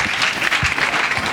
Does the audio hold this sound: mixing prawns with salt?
no